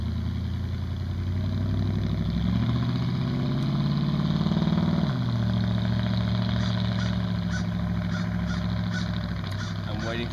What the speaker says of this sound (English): Waiting for my neighbor to drive off with a real loud truck